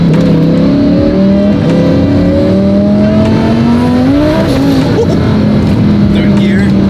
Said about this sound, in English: Third gear, blow the tire off.